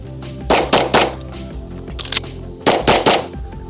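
Shadow Systems XR920P pistol firing on a range, close sharp shots in quick pairs and clusters with a short lull between strings, each report ringing briefly.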